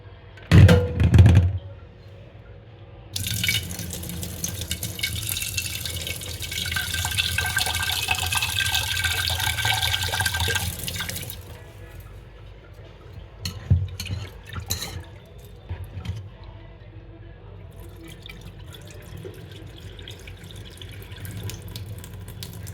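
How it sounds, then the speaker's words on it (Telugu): Rice is washed in water for baby food: splashing and swishing in a bowl, then a long stretch of tap water running, followed by quieter sloshing and intermittent drips. "ఈ బియ్యాన్ని 2 సార్లు వాష్ చేసేసుకొని అప్పుడు మంచినీళ్ళు పోసుకుందామండి"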